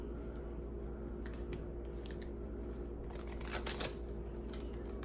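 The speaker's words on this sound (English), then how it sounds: "I'm going to shuffle one more time" Tarot cards being shuffled in a few soft riffling bursts, quiet and close, over a low steady hum with no speech.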